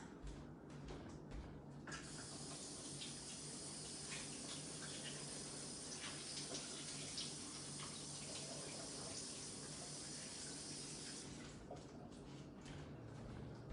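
Water from a kitchen sink tap runs steadily while dishes are washed, a continuous hiss that starts and stops with a few short splashes, fairly faint and with no talking.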